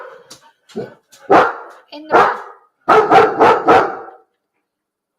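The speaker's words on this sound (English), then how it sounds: "I'm going to just put the dog in the bathroom because she won't be quiet" A dog barks repeatedly nearby, a few scattered barks then a quick burst of four, with a person speaking briefly over it.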